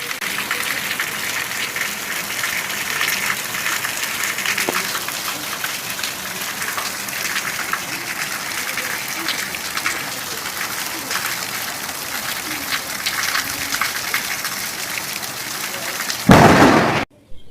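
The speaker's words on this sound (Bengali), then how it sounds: "আজ সকাল থেকেই খুব বৃষ্টি পড়ছে" Heavy rain pours steadily in an even, dense wash with no distinct breaks, ending in a brief loud burst of handling noise.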